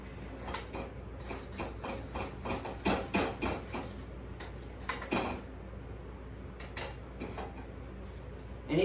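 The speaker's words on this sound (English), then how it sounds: "Let me stir my chili." A spoon stirs chili in a pot with irregular clanks and scrapes of metal against the pot, close and fairly quiet over a low kitchen hum.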